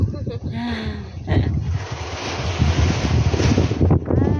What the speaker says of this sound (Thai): ลมแห้ง